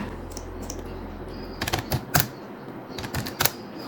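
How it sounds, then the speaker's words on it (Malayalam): Keys tapped on a computer keyboard while entering numbers into an Excel spreadsheet, a few close, sharp clicks in short bursts over a low steady background hum. "ഇനി നമ്മൾ നമ്പർ ടൈപ്പ് ചെയ്യുന്ന സമയത്ത് നമ്പേഴ്സ് അലൈൻ ചെയ്യുന്നത്"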